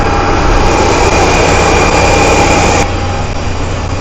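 Jet aircraft engines at an airport give a loud, continuous roar with a steady whine as a flight prepares for takeoff, unbroken and dominant, with a slight drop in level near the end.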